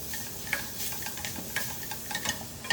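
Meat frying in butter in a pot over high heat, a steady close sizzle with scattered crackles and pops and occasional stirring clinks running throughout.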